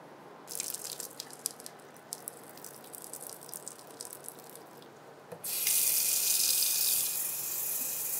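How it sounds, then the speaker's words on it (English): Hot cooked pasta drained into a strainer in a sink: light patter and rattling drips, then a sudden loud rushing pour of water that continues steadily to the end. "Okay, let's drain these."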